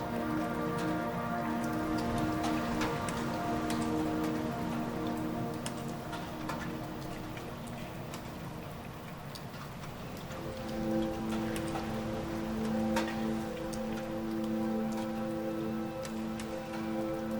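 Soft, steady rain patters on surfaces with fine irregular drips, heard alongside a sustained layered tonal drone in a calm setting, with no voices.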